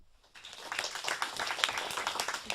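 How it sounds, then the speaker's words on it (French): A small group of students gives quick applause for a point scored in a school radio quiz game, a short burst of light, scattered clapping at a modest level. "On t'applaudit."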